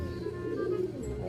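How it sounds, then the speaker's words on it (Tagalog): A bird, likely a pigeon, calls with a soft, low cooing. The call sounds close and steady through the short moment, over faint background noise. "Ito yung ibon."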